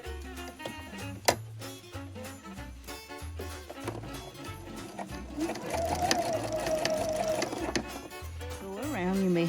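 A sewing machine stitches a quilted Christmas stocking with felt and fabric layers, running in a steady whirring burst with a rising tone near the end. It sounds close and loud, and a voice talks over it at times.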